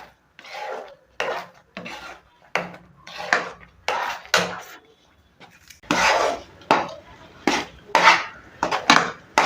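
Rava kesari being stirred in a pan, the spoon scraping and rubbing against the metal in repeated irregular strokes, close and fairly loud with short pauses between.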